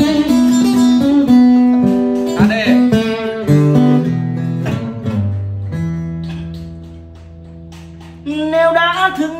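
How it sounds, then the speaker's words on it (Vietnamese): Vọng cổ melody played on guitar, a melodic line of plucked notes and sustained tones that eases into a quieter passage before a brighter phrase returns, with no talking. "Thì nghe như này, đây mới là vọng cổ này."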